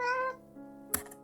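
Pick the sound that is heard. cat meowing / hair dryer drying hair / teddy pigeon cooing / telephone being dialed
cat meowing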